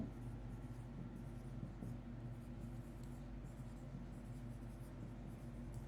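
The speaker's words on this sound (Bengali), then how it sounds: "আগে কারণগুলো লিখি।" Marker or chalk scraping on a board during an economics lecture, a steady continuous scratching texture running throughout at moderate level with a low hum beneath.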